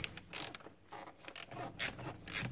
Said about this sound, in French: Maintenant, je vais dévisser notre serflex.